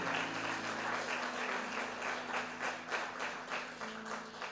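A church congregation applauds during a sermon, with steady, dense clapping from a crowd in a reverberant hall that stays fairly even throughout.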